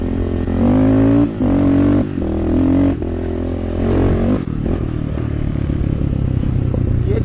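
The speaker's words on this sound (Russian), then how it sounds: "Парнишка с нами едет на битбайке на 125-очке." A 125cc pit bike rumbles loudly and continuously on an enduro ride over rough ground with water crossings, the engine revving and easing amid clatter, close up and with no talk.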